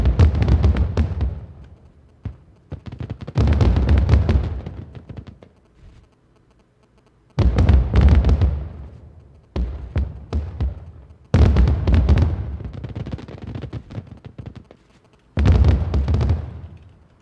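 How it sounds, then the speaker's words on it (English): Fireworks going off during a show in the video game Rust: loud booming bursts with crackling tails, arriving in clusters separated by short quiet gaps. "where I put on one more fireworks show"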